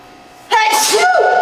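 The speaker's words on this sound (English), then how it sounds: "I'm gonna sneeze." A single loud, close sneeze bursts out after a short quiet pause, followed by a brief breathy trailing sound.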